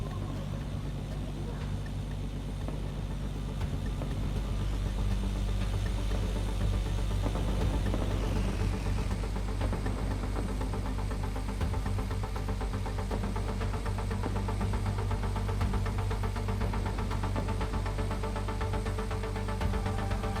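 A car engine drones steadily while driving in the Mindseye video game, a constant low hum and throb that runs throughout, loud and even, with a shift in tone partway through.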